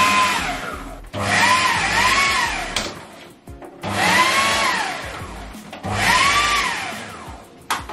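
A mixer grinder whirs through a thick fish curry paste for a Trevally fish (paarai meen) curry, running in three steady bursts with short pauses between them and a rising, falling motor pitch in each run, with no talk.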